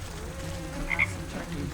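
The Frog King in a video game gives a couple of quick, close croaks over a low, murmuring game background, with no speech.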